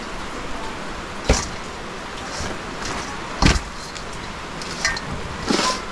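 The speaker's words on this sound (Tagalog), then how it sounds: "Lakas ng ulan." Heavy rain pours down at night outdoors, a steady dense hiss that fills the scene, broken by a few sharp knocks and thuds.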